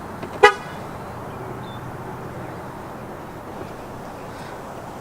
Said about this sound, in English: So if we lock the car